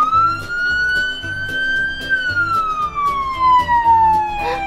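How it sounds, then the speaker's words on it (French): A police car siren set off by pressing a button wails loudly and close in a rising then falling tone, with a rhythmic music bed underneath, heard at the San Diego Zoo. "Ouais, c'est la sirène."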